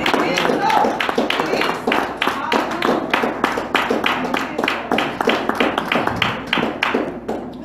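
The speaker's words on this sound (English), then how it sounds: "let's give him a hand clap of praise" Church congregation clapping hands in praise during a worship service, a steady rhythmic run of many hands beating close and loud, with voices speaking and calling out over the clapping.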